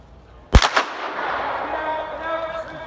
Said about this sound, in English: Oh, it's a gun.